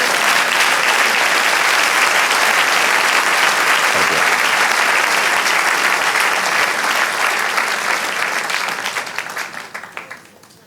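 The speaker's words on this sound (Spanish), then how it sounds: "Dale un aplauso al Señor, amén." A church congregation gives loud, sustained applause, a thick wall of clapping that holds steady for several seconds and then fades away toward the end.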